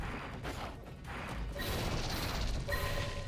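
An enemy's armor shatters in Atlas Fallen with a sharp crash after a run of hits, followed by bright ringing debris and mechanical clatter, fairly quiet and alone.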